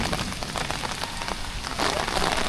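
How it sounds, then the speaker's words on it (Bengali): Rain falls steadily outside a house near a pond, a dense close patter of drops hitting surfaces, swelling slightly louder toward the end with no talking. "বৃষ্টি পড়তেছে"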